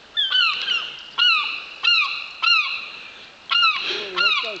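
An angry seagull hooked on a fishing line gives a series of about seven loud, harsh squawking cries, each short and sharply descending, spaced roughly evenly and close to the microphone.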